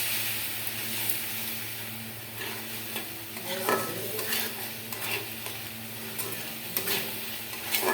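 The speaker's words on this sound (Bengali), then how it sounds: "এবার আমি মশলাটা একটু কষিয়ে নেব" Spices stir-fry in oil in a pan with a steady close sizzle, while a utensil scrapes and stirs in repeated strokes.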